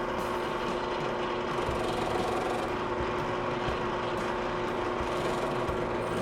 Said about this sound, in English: I love the Scotch-Brite wheel for polishing the brass